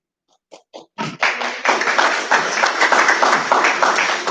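Attendees at a board meeting break into applause: a few scattered claps first, then a full, steady round of clapping from the room that builds and carries on, fairly close and loud.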